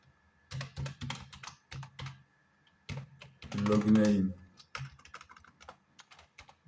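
Typing on a computer keyboard while entering a name, bursts of close clicky keystrokes in short runs, with someone speaking over part of it.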